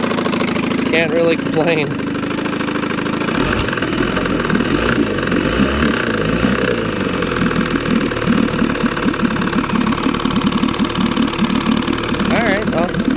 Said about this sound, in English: This is a nice, smooth running motor for being 50 years old.